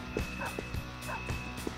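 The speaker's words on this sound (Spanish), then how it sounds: "Otro perro." Short, repeated dog barks and yips from the video game Persona 5 Royal, several quick bursts over a steady musical and ambient game background.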